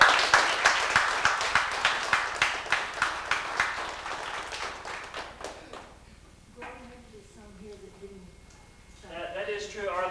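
A small gathering at a reunion claps for Air Force and Army veterans, with a few hands beating in a fairly regular rhythm that fades out after about six seconds, then a voice talks over quiet room sound.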